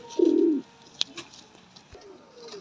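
A Lotan pigeon, a heavy-booted male with six-inch-plus foot feathering, gives one loud, close, low coo at the start, followed by quieter handling sounds and faint background noise.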